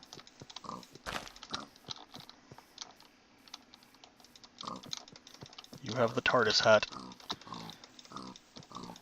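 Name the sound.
pig oinking in Minecraft video game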